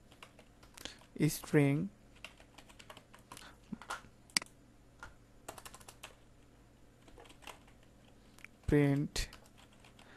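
Python code is typed on a computer keyboard, giving scattered single clicks and short bursts of keystrokes. Someone speaks between the bursts in a quiet room.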